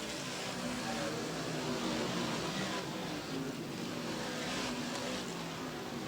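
Dirt modified race cars roar around a speedway in Plattsburgh, New York, as one continuous, loud wash of engine noise with no breaks.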